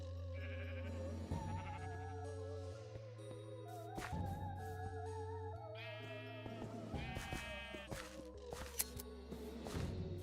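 Sheep in a video game bleat repeatedly over steady game music, the calls rising and falling in short wavering bursts alongside a few clicks and sharp effects.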